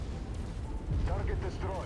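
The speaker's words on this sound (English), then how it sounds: "Target is about to blow." A giant mech blows apart in the MechWarrior 5 video game, a heavy low rumbling blast swelling up partway through amid steady battle noise, with a voice faintly present.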